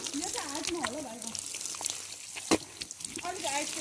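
Water runs in a small trickle from a tap of a village water project while someone washes their face nearby, with a steady wash of water under a voice talking throughout.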